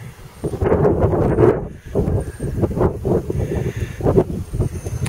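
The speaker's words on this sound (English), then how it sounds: "it's so windy you can't believe it" Strong wind on a warm spring day buffets the microphone with deep, uneven rumbling gusts that rise and fall, loud and close, with no voices.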